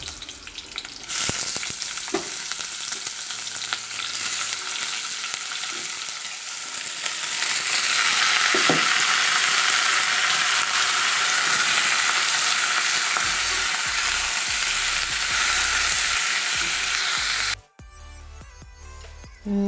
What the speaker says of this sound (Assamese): মেথি আৰু পিঁয়াজ দি হোৱাৰ পাছত তাতে মই কাটি ৰখা গাজখিনি দি দিছোঁ।